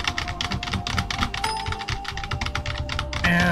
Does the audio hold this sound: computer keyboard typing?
yes